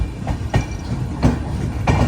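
The Millennium Express rolls into platform 5 at Palakkad Junction, wheels clacking over rail joints in a slow, regular rhythm under a low rumble, close and fairly loud.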